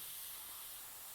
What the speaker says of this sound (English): Let's do some first flow test before start spraying over the model.